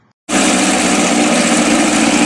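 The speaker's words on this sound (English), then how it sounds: "This is the race day, Sunday at Buttonwillow. Robert is in pole position, and he's ready to go" Race car engine idling on the starting grid at Buttonwillow, starting abruptly after a brief silence and holding a loud, steady, close rumble with no voices.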